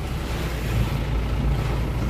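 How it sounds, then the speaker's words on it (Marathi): Stormy wind and rain beat against a truck on a highway drive from Pune, a loud, steady low roar of buffeting wind and road noise with no voices. "तुफान वाऱ्याचा पाऊस."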